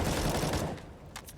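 A dense burst of rifle fire in Counter-Strike on the Dust 2 map during a professional match, loud and rapid for about half a second before trailing into quieter game ambience.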